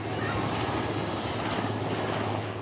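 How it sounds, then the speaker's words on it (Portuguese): Helicopter carrying Brazil's president arriving at a housing development in Jardim Nova Esperança, its rotor and engine roar continuous and fairly distant, with no voices. "Dilma Rousseff chegou às 14h de helicóptero ao Jardim Nova Esperança"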